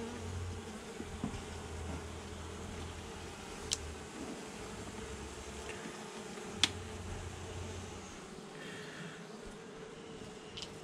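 A honeybee colony hums with a steady, dense buzz during an early-spring hive inspection, close and continuous with faint rustles and a couple of sharp ticks.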